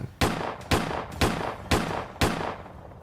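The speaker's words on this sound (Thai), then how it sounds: "คว้าปืนพกยิงกราดใส่กลางห้อง เสียงปืนดังก้อง" Pistol gunfire in a Thai audio drama: five loud, sharp shots fired at a steady pace about half a second apart, each with a ringing echo that trails off, and no voices.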